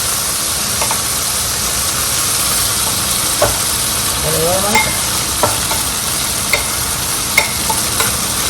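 Chicken wings fry in plenty of hot oil with a loud, dense, continuous sizzle and hiss, broken by occasional sharp ticks and scrapes of handling nearby.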